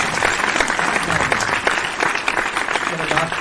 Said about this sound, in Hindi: मुझे लगा तालियों का थोड़ा सा कम हो रहा है, थोड़ा सा ऊर्जा दीजिए मुझे